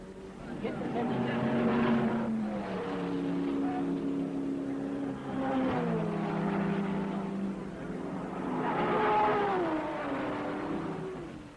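Triumph TR and works Ferrari race cars at the 1961 Le Mans 24 Hours, engines droning and rising in pitch as they pass in successive swells, heard at moderate distance with a voice talking over them.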